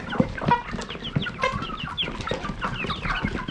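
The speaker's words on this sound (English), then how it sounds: "Crazy chickens." Chickens cluck and squawk in a busy, overlapping flock out on farm fields, steady and fairly close throughout, with no voices over them.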